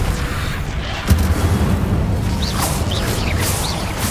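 Incendio fire spell cast during Hogwarts Legacy gameplay, a sudden low boom followed by a sustained roaring rumble with a few brief whooshing accents, loud and close with no talk.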